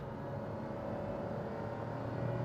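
Perodua Ativa small SUV engine heard from inside the cabin in sport mode during manual up- and downshifts: a steady, low, muffled drone of engine and road noise, constant and fairly quiet.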